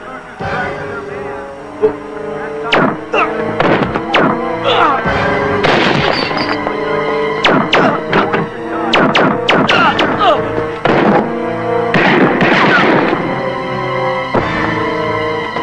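Sharp, loud bangs ring out one after another in irregular bursts, sounding like a volley of gunshots over a steady background.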